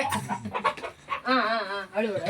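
A chicken clucks and cackles in short bursts nearby at a village fair, with a voice talking over and between the calls.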